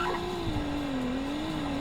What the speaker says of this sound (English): And now let's get a 0 to 60 test here.